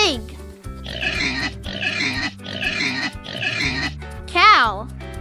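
A pig gives a run of four rhythmic oinks, loud and close, followed by a higher squeal, with a pitched tone at the start.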